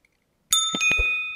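A notification bell sound effect, a single bright ding struck once after a moment of silence, ringing out with a sustained metallic shimmer that slowly fades.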